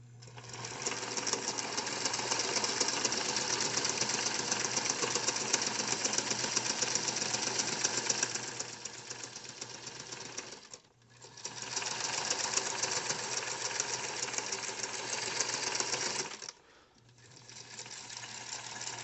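A sewing machine stitches a crossbody purse in three steady, whirring runs with brief pauses between them. It sounds close and fairly quiet, with no talking.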